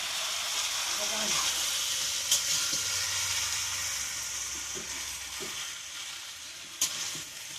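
Goat meat cooks in a pan with a steady, loud sizzling hiss throughout, broken by a few sharp clinks of a utensil against the pan.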